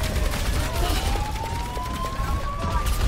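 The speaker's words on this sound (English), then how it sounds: "that siren's going to be annoying" A wailing siren in the video game Overwatch 2, a rising tone sweeping slowly upward over dense, constant gunfire and game noise, loud and continuous throughout.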